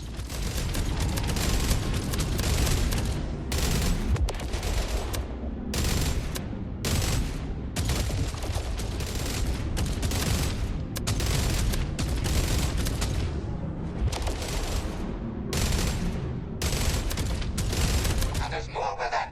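Dense, loud game gunfire from weapons in the sci-fi shooter Jump Space, rapid bursts of automatic fire and booming shots overlapping continuously for about twenty seconds with no pauses.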